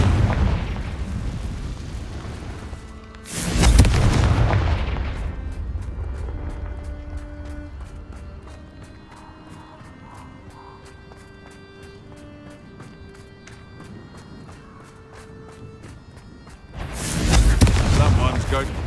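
Two loud, booming fire-spell explosions from Confringo in Hogwarts Legacy, one early and one near the end, separated by a quieter stretch of ambient game music and a voice.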